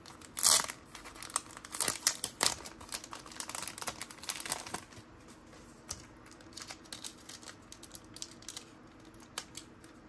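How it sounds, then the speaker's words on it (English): A foil pack of 1990s NBA trading cards is torn open and handled, giving sharp crinkling and tearing at the start, then scattered soft rustles and clicks, close and fairly quiet. "Let's open another pack of this"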